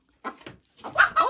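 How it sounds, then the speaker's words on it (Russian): A laying hen cackles after leaving the nest where she has just laid an egg, giving two short bursts of clucking calls, near and fairly loud. "Вот так вот курица выходит с гнезда и всем хвалится, что она снесла яйцо"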